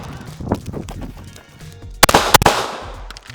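Gunshots ring out during target shooting practice: a few soft earlier pops, then two sharp, loud cracks in quick succession near the end, close to the listener.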